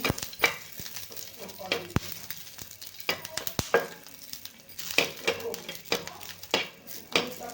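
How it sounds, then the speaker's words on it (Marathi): Dry red chillies roast in a pan for a brinjal dish, with a steady faint sizzle broken by repeated sharp clinks and scrapes of a spatula stirring against the metal, close and intermittent. "एकदम लाल मिरच्या आपल्याला भाजून घ्यायची आहे छान खरपूस भाजायच्या आहेत मिरच्या"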